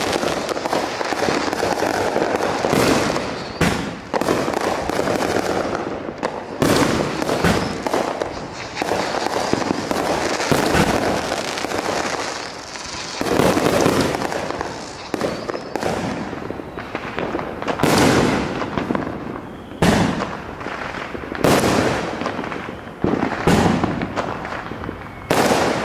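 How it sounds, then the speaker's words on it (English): Fourth of July fireworks show in Lynn, Massachusetts: repeated loud booming bursts and crackling firecracker volleys arrive in irregular clusters, with sharp blasts standing out above a continuous crackle and faint crowd noise. "These guys probably are the best fireworks in the town."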